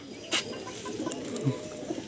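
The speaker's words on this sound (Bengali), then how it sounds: "সুন্দর কোয়ালিটির ম্যাদ্রাসি পায়রা দেখুন" Soft cooing of a Madrasi pigeon, a few low throaty notes close by, with a brief flutter or rustle and faint background noise.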